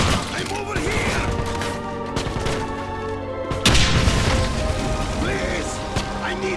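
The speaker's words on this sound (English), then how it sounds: "Grenade!" In the video game Wolfenstein, a loud grenade explosion bursts amid a rattle of gunfire, with a sharp blast midway followed by continued shooting and debris-like crackle.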